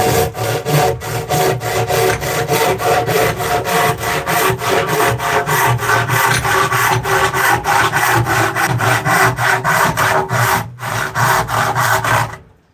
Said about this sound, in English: It is amazing what a nice sharp handsaw can do. It can really blow through that wood.